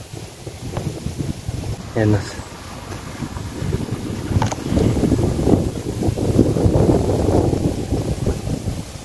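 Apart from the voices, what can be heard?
wind blowing on a hilltop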